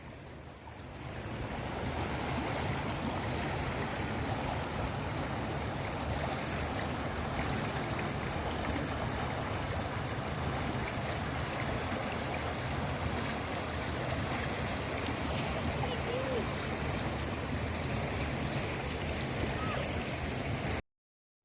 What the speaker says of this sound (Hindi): ये जौन सा पानी आ रहा है ये गंगा नदी का पानी यहाँ पे आ रहा है